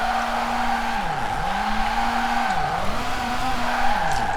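A Nissan Pulsar GTI-R with a drift suspension setup and upgraded original engine drifts in Forza Horizon 4, its tires squealing continuously and loudly, the squeal pitch repeatedly dipping and recovering with each slide over a steady engine drone.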